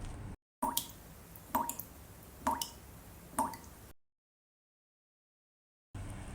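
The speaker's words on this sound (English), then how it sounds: "Our ears hear water." Water drips in a sound effect: four distinct, fairly loud drops at an even pace, each a sharp plop over a soft background, followed by a stretch of silence.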